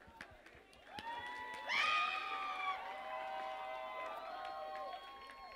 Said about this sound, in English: one big round of applause for our entire team out here